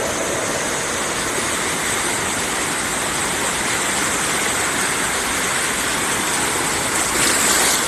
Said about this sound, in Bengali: এই দেখেন কত বড় ঢেউ আসতেছে।